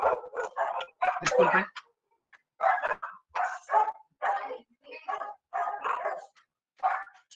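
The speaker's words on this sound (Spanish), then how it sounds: "Hay 7 perros en mi casa. Así que va a ser un poquito difícil que se callen." Several dogs bark inside a house in rapid, overlapping bursts, loud and close, with yips mixed in and brief pauses between flurries; a person says a single word partway through.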